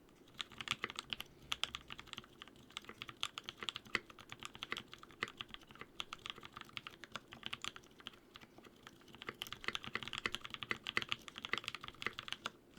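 Fast, hard typing on a Bauer v2 mechanical keyboard: rapid, uneven clacking keystrokes in dense bursts, close and fairly quiet, continuing steadily throughout.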